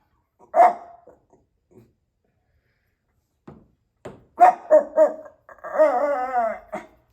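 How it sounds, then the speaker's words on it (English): A dog barks several times in short bursts, then lets out a longer whining, howling bark, close by with quiet pauses between. "He's going to bark at him."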